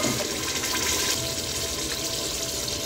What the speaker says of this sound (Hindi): उसके लिए मैं इसमें 1 मग पानी यूज़ कर रही हूँ।